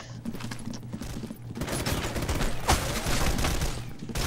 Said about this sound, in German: nicht auf mir schießen